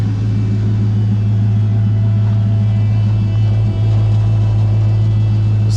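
A Dale30 car engine rumbles steadily while backing up, a loud, close, continuous low drone with a constant hum and no speech.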